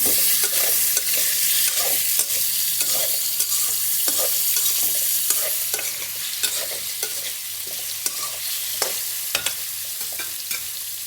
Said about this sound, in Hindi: अच्छे तरीके से आपने इसमें चम्मच चला लेना है।